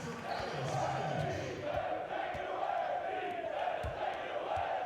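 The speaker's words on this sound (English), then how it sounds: "the great Houston Rocket chant bursts out the crowd once again" A basketball arena crowd in Houston chants for the Rockets during an NBA game between Atlanta and Houston, a loud, steady rhythmic roar that fills the space and swells and dips in waves.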